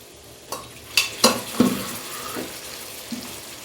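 Boiled peas tipped into a hot frying pan for ghugni and stirred, a steady sizzle with several sharp metallic clinks and scrapes of the spoon against the pan, close and moderately loud, no speech.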